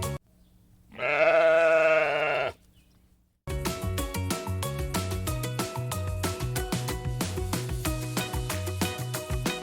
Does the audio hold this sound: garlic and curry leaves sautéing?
no